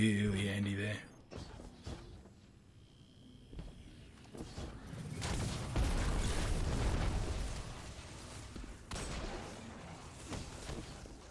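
Cluster bomb explosions in the video game Destiny 2 roll out as a dense, rumbling barrage of bursts and booms, loud and sustained in the middle of the passage amid gunfire-like crackle.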